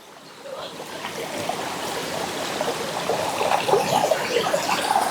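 Water flowing steadily in a stream at Keralamkund waterfall, a continuous close wash and trickle that swells slightly louder toward the end, with no speech.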